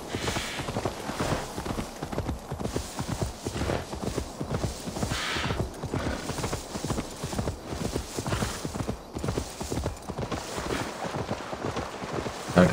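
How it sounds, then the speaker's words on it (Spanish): Horse hooves clip-clop in Assassin's Creed Valhalla, a steady rapid beat running continuously for over twelve seconds with light wind noise behind it. "El caballo aquí."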